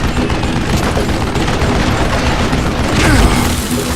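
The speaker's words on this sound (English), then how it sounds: "You can't hide from dynamite." Loud, dense rumbling blasts and gunfire-like crackle from dynamite in the Western shooter game Call of Juarez: Gunslinger, with a heavier boom swelling near the end.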